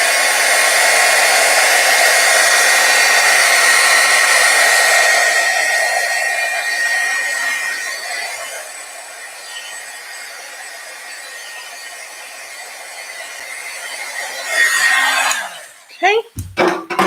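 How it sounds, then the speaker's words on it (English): A heat tool blows steadily over a stamped card to warm it, a continuous airy whir for about fifteen seconds that fades gradually, then cuts off into a few brief handling knocks. "I'm going to take my heat tool and kind of"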